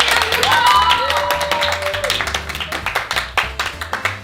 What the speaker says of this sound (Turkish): Alkış versin.